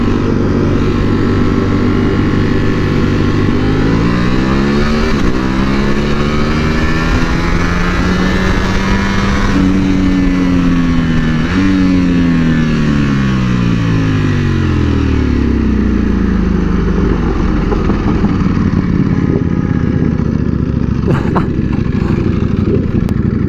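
A Ducati superbike engine revs loud and close, its pitch climbing and falling in several sweeping pulls over a constant rumble.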